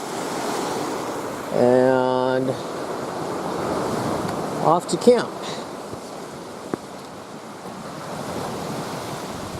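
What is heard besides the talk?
ocean waves on the shore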